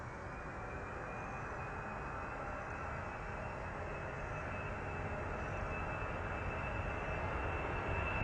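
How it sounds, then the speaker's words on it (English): Pakistan Airlines Boeing 747 going around on approach, a continuous broad engine roar that stays steady and builds slightly toward the end, with no talk heard. "Pakistan 716 has gone round."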